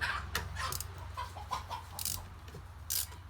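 Chickens cluck and squawk close by in a busy, irregular flurry of short calls, with a low mechanical hum running steadily underneath.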